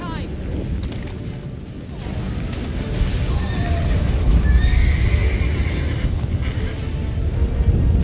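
Horse in The Witcher 3 whinnies with rising tonal calls over a dense, rumbling game soundscape of water and wind, steady and fairly loud throughout.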